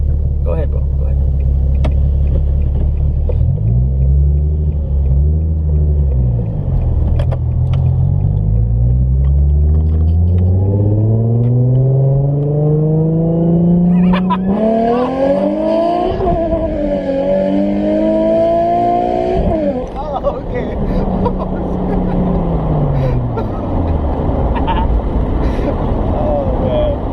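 Nissan 350Z with a loud aftermarket exhaust revving hard, deep rumbling idle sweeping up into repeated high revs and falling back, close and dominant throughout, with people talking over it.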